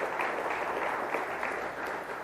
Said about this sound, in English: I do appreciate the applause